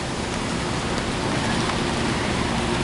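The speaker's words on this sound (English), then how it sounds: "the rain bringing life." Rain falls steadily outdoors near a transit center, a dense, even hiss of spattering water with no breaks and no voices.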